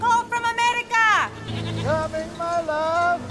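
Goats bleat in a TV drama scene set around a goat herder, several wavering cries close by and fairly loud, mixed with other scene sound.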